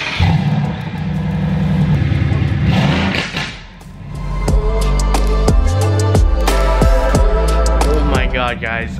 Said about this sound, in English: I swear that GTS is so freaking loud